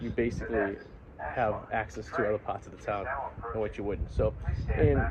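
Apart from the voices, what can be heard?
No everyday noise stands out behind the speech.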